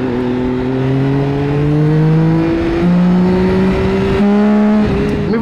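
A Triumph Tiger 1050 motorcycle engine revs loudly and close up. The pitch climbs in stepped stages, holding each level briefly before the throttle rises again, with no voices.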